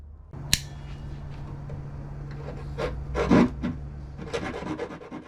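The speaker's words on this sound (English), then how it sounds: "I drilled a hole, thinking that I was going to just use a little jigsaw blade by hand and cut off those corners" A small jigsaw blade held by hand rasps through the corner of a wooden bench top, giving short scratchy strokes with a sharp click early on and a louder burst of sawing midway, close and dry.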